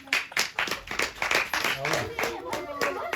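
At a family Eid celebration in Afghanistan, a small audience claps in quick, uneven bursts of close hand claps for about three seconds.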